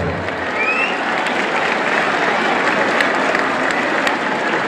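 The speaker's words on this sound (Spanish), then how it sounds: "Rancho San Martín que montó Rayito Flores, regálele fuerte el aplauso." Sustained applause from a large crowd at a bull competition at a fair closing tournament in San Miguel Ajusco, steady, dense clapping mixed with faint cheering that holds at an even level throughout.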